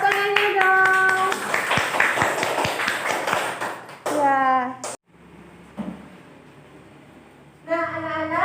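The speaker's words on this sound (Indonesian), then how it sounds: "Tepuk tangannya dong." Children clapping in a classroom lesson, a short burst of rapid hand claps under a teacher's voice, followed by quieter room sound and more speech.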